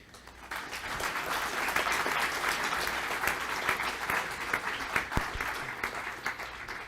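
Audience applause at a scientific conference in Pisa after a life-sciences talk, steady dense clapping from a full room that swells in the first second and continues evenly throughout.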